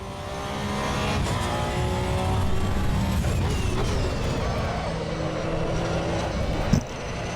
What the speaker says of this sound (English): Let's see what lap time I can do with my first Hotlap here, using the Porsche 911 Cup car